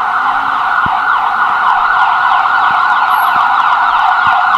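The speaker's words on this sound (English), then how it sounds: "Not a good day to film with sirens. Let's wait for this one to go by." A loud emergency vehicle siren in Salisbury, North Carolina wails steadily and continuously as it passes, dominating the scene with a high sustained tone, with faint road traffic beneath.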